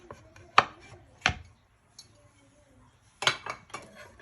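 A knife chops through a slab of buttery Guyanese fudge on a board, with sharp separate knocks: two early cuts, a pause, then a quick pair of chops, close and crisp.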